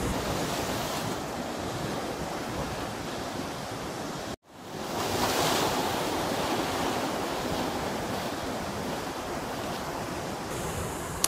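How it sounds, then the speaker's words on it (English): Waves break on a rocky shore in Dumfries and Galloway, a continuous loud roar of surf mixed with wind, cut by one brief dropout. "When you've got something like waves hitting the shore"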